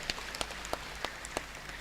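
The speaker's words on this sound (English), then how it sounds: "Please give him a big round of applause." Sparse, faint applause for the Minister of Health at a health sector event, a handful of scattered, evenly spaced claps from a small, distant crowd.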